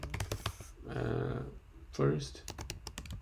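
Quick bursts of computer keyboard typing, sharp close key clicks in irregular clusters, come before and after a man's short spoken phrases.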